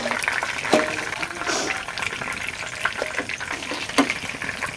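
Fried magur catfish being lifted slowly out of hot cooking oil, with a steady close sizzle and a few sharp clinks of a utensil against the pan.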